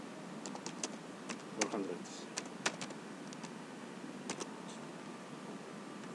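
Quiet clicking of computer keyboard keys while code is entered, in irregular light taps beneath a person speaking.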